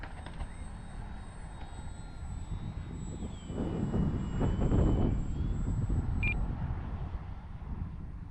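A small propeller engine of an X-Fly Tasman RC airplane drones at a distance, its pitch rising and swelling louder midway before settling, with a brief electronic beep near the end.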